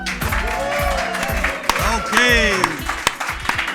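A studio audience applauds and cheers a podcast host as he comes on, steady clapping throughout with a voice talking over it.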